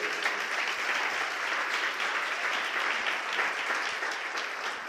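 Steady applause from a church congregation, a dense even patter of clapping that continues throughout without any talking.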